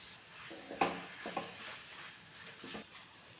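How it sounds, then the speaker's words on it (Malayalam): Vegetable noodles stirred with chilli, soy and tomato sauces in a pan: faint scraping and clinking of the utensil in a few separate strokes over a soft sizzle, with no voices. "എല്ലാം കൂടി നന്നായി മിക്സ് ചെയ്ത് കൊടുക്കാം"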